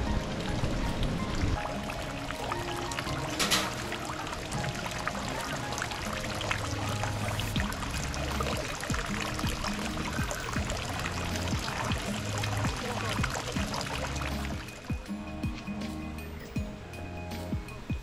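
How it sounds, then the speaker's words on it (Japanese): Water pours and splashes steadily into the stone basin of the temizuya purification fountain at Hasedera temple in Kamakura, close and continuous, thinning slightly near the end. "水の音が聞こえる"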